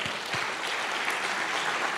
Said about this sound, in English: and a round of applause for Wendy